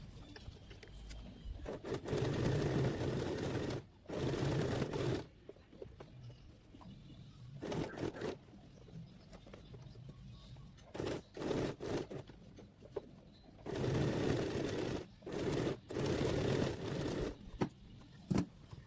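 A sewing machine stitching along the side of a V neck on a garment: several runs of steady mechanical whirring, each lasting a few seconds, separated by quiet pauses and light handling noises, heard up close.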